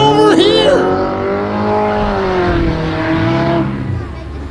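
Engines rev and tires squeal as two cars battle on the grass at a Flamboro Speedway demolition derby, loud and close, with an announcer's excited voice over the roaring motors.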